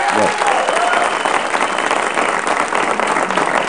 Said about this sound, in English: I completely second those who were just applauding